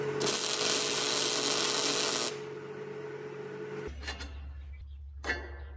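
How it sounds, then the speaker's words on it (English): A belt grinder runs loudly as a tight-fitting metal tracking hinge is ground down, then the motor cuts out and spins down, followed by a low hum and a couple of short scraping touches. "The tracking hinge fit just a bit too tight, so I'm just grinding it down a little."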